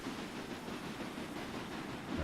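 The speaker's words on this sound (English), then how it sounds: "we'll let that train keep running back and forth" Steady low rumble and rail clatter of trains running in the railway management game Railway Empire, a continuous mechanical drone at moderate level with no talk over it.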